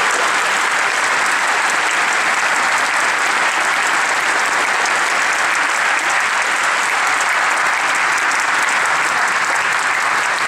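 A large audience applauding inside a basilica, dense sustained clapping at a steady loud level throughout, filling the reverberant space.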